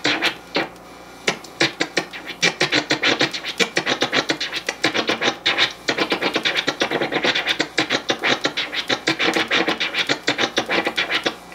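A DJ scratches a short snare drum sample using the Kermit scratch technique, producing rapid, tightly spaced scratchy cuts in a steady, busy rhythm throughout, close and loud with no talking.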